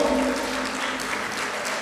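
An audience at a CIMAGE College event applauds a guest welcomed onto the stage, a short steady wash of clapping at moderate distance.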